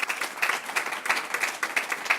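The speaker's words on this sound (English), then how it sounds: "so please give them a round of applause." A brief, moderately faint round of applause for Toyota engine plant team members at a Huntsville event, quick scattered claps from a small audience without talk.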